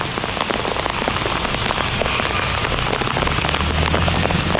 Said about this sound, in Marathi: जोरात पाऊस आहे.